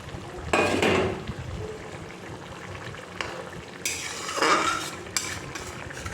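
Fish curry masala stirred in a pot while cooking bhola fish jhal, with bursts of spoon scraping and metal clatter against the pot over a low background, loudest near the start and again midway.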